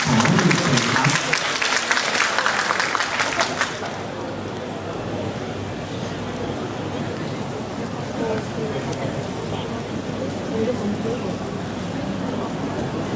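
Applause fills the Yala Rajabhat University auditorium after a special lecture by the Second Army Area commander: about four seconds of loud, dense clapping from a large crowd, then it fades into a low hubbub of the audience murmuring and voices talking.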